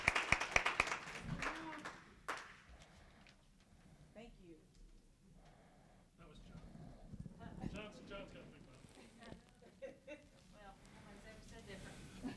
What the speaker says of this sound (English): give us words about this giveaway and about Georgia School. Let's give Chris a round of applause as he comes